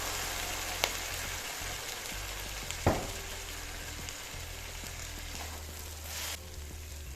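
Wine poured into a hot pan for homemade lasagna sauce, a steady soft sizzle with a sharp hiss and a few clinks, fairly quiet and alone.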